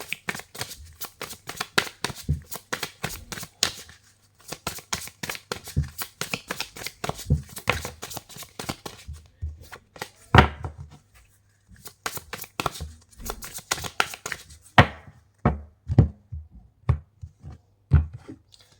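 Oracle cards shuffled by hand in rapid bursts of crisp riffling flicks and slaps, close and fairly loud, pausing briefly between rounds with no speech.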